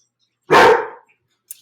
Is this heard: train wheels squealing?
no